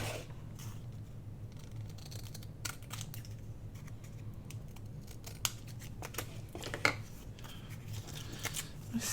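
Large scissors snip through the trimmed edges of small matchbook-style paper notepads, a run of crisp, close cuts at an irregular pace over a low steady background hum.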